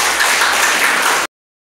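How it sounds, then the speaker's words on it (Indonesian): A classroom of students claps together in a dense, steady burst of applause that lasts about a second before cutting off abruptly into silence. "Baik, kasih tepuk tangan untuk kasih."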